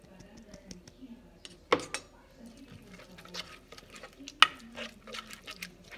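Shrimp skewer marinade being stirred in a bowl, soft scraping and light clicks with two sharp knocks against the side, close and quiet, with brief murmurs of a voice in between.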